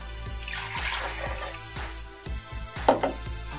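A cup of water pours into a blender jar as the base for a green nectarine smoothie, a soft, steady trickle and splash lasting a few seconds, close and moderately quiet, ending with a few small clinks and drips.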